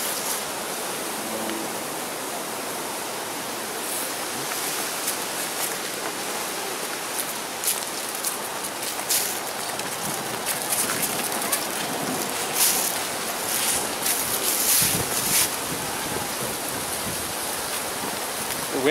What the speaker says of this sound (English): The wind blowing all the trees?